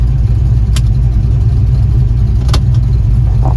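An old work truck on a test drive rumbles with a loud, steady engine drone and road noise close up, with a couple of brief clicks.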